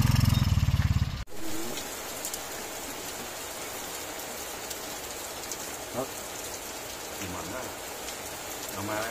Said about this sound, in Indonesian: Buru atuh ang hujan.